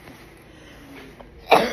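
A single short, sharp cough bursts out near the end after a stretch of quiet room tone, close to the microphone.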